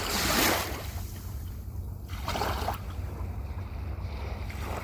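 Ocean waves wash in on a calm, sunny afternoon in soft, rolling surges, with gusty wind buffeting the microphone and no one speaking.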